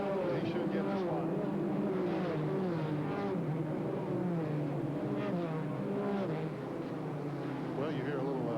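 Stock cars racing at the racetrack during a 1991 Busch Grand National event, engines droning and revving continuously at a distance as a steady roar beneath commentators' voices.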